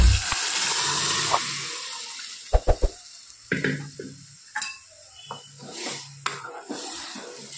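A spoon stirs a mung bean dish in a pan, giving scraping strokes and a few sharp clinks against the metal over a soft sizzle, with irregular pauses between movements.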